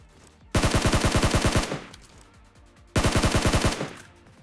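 Tap-fired gunshots in the mobile game PUBG Mobile: two quick bursts of rapid, evenly spaced shots, loud and close, separated by a short pause.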